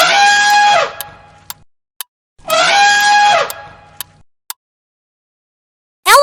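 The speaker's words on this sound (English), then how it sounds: "Elephant." Two loud, drawn-out elephant trumpet calls, each about a second long and bright and brassy, separated by a pause, with a few sharp clicks and ticks between them and a brief sound starting at the very end.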